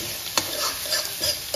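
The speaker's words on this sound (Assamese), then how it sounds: "এতিয়া পুৰা এটা লৰাই দিওঁ" Chicken masala is stirred in a hot pan: close, rhythmic scrapes and knocks of a spoon against the metal come over a soft continuous sizzle, with several distinct strokes in quick succession.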